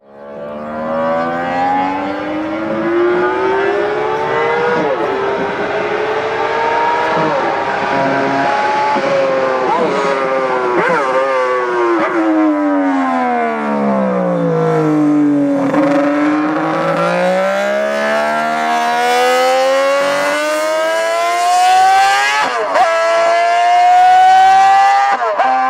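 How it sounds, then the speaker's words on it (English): A 1960s Honda six-cylinder race bike engine screams at very high revs, its shrill note rising and falling through gear changes, loud and close with no talk over it. "6 cylinders revving that high,"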